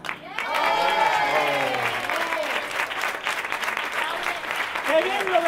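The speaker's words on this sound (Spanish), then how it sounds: "Gracias por los aplausos ha sido." Audience applause after a duo or trio performance at a carnival competition in Tarifa, a loud, sustained crowd clapping with voices and cheering mixed in and rising again near the end.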